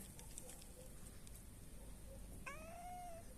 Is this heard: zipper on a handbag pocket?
no